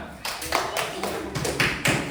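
Schoolchildren in an Islamic religious education class clap their hands in short, uneven bursts, near and moderately loud, with voices mixed in.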